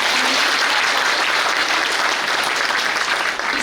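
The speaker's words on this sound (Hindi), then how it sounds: "जोरदार तालियों से।" Loud, continuous applause from an audience at a spiritual class in Amravati, a thick, unbroken wash of clapping that holds strong from start to finish.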